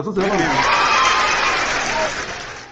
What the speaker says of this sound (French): On applaudit d'abord.